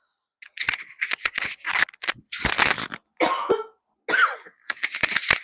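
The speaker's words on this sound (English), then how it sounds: "Keep coughing." A person coughs repeatedly in close, harsh bursts with brief pauses between them, sounding loud and near.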